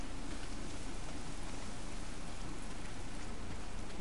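Heavy rain pours down steadily in the video game Days Gone, a dense, even roar of drops with no pauses and no voices.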